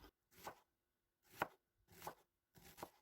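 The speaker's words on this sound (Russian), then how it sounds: "2 луковицы нарезаю мелким кубиком." A knife dices two onions on a board in five soft, evenly spaced chops, close and faint, with no talking.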